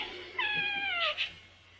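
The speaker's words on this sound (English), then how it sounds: "Silly cat." A cat meows indoors, one drawn-out falling meow followed by a short second chirp, close and clear over a quiet room.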